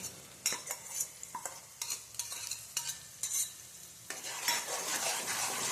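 Chopped garlic, ginger and green turmeric sautéed in a pan while a spoon scrapes and stirs, giving repeated close clinks and scrapes over a soft sizzle that grows louder and denser toward the end.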